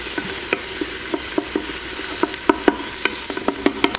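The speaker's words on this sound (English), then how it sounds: "And you're just getting a nice saute." Food sautés in an Instant Pot with a steady bright sizzle, while a utensil scrapes and clicks irregularly against the pot as it is stirred, close and clear with no voices.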